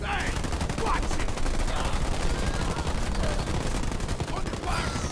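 Dense, continuous rapid gunfire from combat in the Halo Wars 2 strategy game, with overlapping automatic bursts sustained at a steady loud level and game voices occasionally cutting through.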